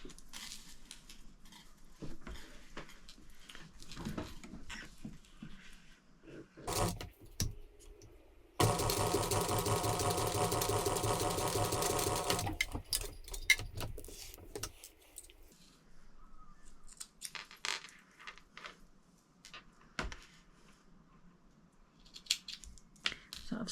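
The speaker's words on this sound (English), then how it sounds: "I'm going to sew across this top edge about an eighth of an inch away from this top curvy" A sewing machine stitches across the top edge of a fabric embroidery-scissors case, a steady close whirring run of about four seconds mid-clip, surrounded by quieter handling clicks and rustles.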